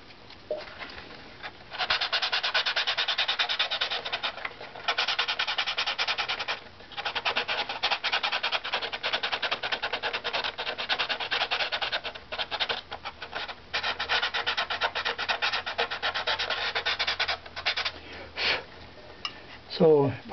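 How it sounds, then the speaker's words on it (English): Long stretch of close, abrasive sanding on a wooden tone strip, steady back-and-forth rasping with a few brief pauses, ending with some faint handling noises. "So part of the wood that we'd be sanding is gone"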